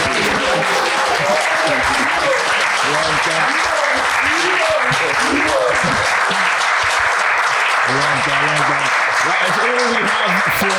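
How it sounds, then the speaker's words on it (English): Audience applause for former goalkeeper David Seaman at a live Arsenal podcast supporter Q&A, loud and sustained, with voices and cheers mixed through the clapping throughout. "can we give a round of applause to David Seaman?"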